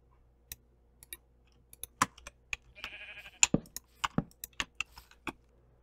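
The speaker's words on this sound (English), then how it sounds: "Oh, there's a sheep." A single Minecraft sheep gives a short, thin bleat midway through, heard among a steady scatter of crisp keyboard and mouse clicks, all quiet and close.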